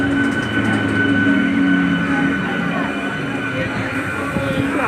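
Crowded commuter passenger train in motion during morning rush, a steady loud rumble of wheels and carriage noise with faint clatter, murmuring passengers underneath throughout.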